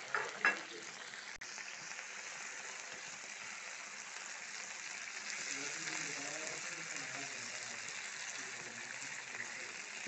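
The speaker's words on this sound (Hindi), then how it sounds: "आलूओं को मैं अच्छी तरह पका लेती हूँ।" Baby potatoes fry in a pan with a steady, close sizzle that runs unbroken for about ten seconds, after a couple of light knocks at the start.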